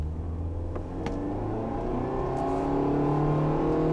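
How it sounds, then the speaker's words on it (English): A car engine with a CVT transmission drones under full throttle, holding a steady rising whine that grows slightly louder rather than stepping through gears, with no talking. "Now the engine will keep making this noise until you reach the speed you want to go."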